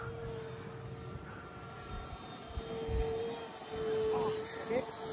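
Light aircraft coming in to land at Baradas, a steady engine drone with a sustained tonal hum, fairly distant and moderately loud, while people talk in the background.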